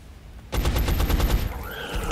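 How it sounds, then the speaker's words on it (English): Rapid automatic gunfire from the X-Com Reimagined video game, a dense burst of sharp repeated shots lasting about a second after brief quiet, then trailing off into a softer effect and a final hit. "But if I shoot this guy,"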